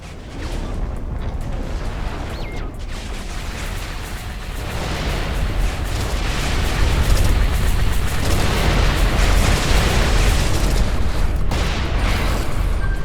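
Detonation in the space video game Everspace 2, a loud sustained rumbling blast that swells over several seconds and holds as a dense roar.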